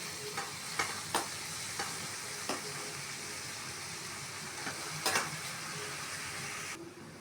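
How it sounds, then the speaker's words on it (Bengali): Roasted eggplant is added to a pan of fried chopped ginger and stirred, a soft steady sizzle under occasional spatula scrapes and knocks against the pan, faint and continuous. "এবার দিয়ে দেব বেগুন পোড়াটা"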